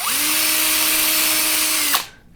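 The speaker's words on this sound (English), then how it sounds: "drilling out holes" Power drill boring a row of holes along a piece of wood for cheese-cutting work, a steady close whine rising at the start and holding for about two seconds before spinning down.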